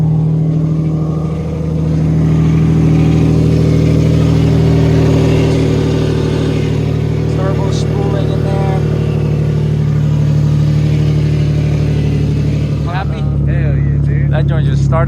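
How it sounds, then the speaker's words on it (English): A Nissan VQ37VHR V6 fitted with a top-mount single turbo kit starts up and settles into a steady, loud idle with a few rising revs, while people talk and cheer nearby. "now we're gonna start it for the first time"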